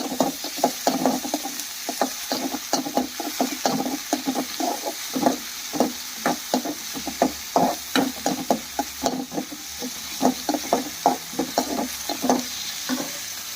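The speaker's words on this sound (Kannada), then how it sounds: "ಕಾದ ನಂತರ ಈರುಳ್ಳಿ ಹಾಕಿ ಫ್ರೈ ಮಾಡಿ" Chopped onions fry in about two spoons of hot oil in a pan, giving a steady sizzle broken by a quick, regular run of scraping stirring strokes throughout.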